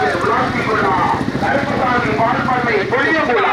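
Rapid drumming hoofbeats of racing animals mix with an excited commentator's continuous talk and crowd noise, dense and loud throughout.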